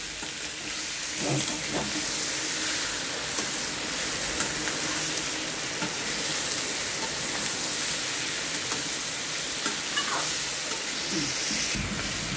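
Chicken giblets sizzle as they are sautéed in a pan, a loud, continuous close-up frying hiss with occasional stirring scrapes throughout.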